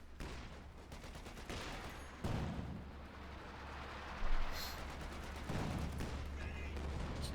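Rapid gunfire and small-arms volleys crackle through a Company of Heroes 2 battle, sustained bursts with a few louder blasts breaking in, steady and fairly close.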